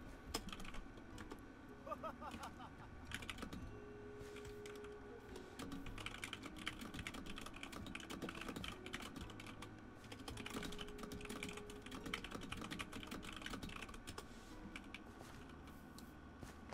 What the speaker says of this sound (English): I forgot I have such I have a loud keyboard